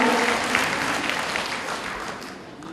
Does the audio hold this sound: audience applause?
yes